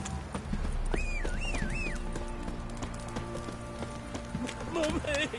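Horses clip-clop at a trot with a whinny in The Witcher 3 video game, the hoofbeats steady beneath background game voices and ambience.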